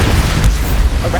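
The Bombarda spell in Hogwarts Legacy detonates in a loud, short burst with a heavy low rumble that fills the whole moment.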